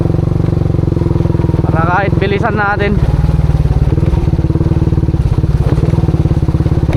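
A motorcycle engine drones loudly and steadily as it rides a rough path toward the sea, with bumps and clatter along the way and a voice talking over it.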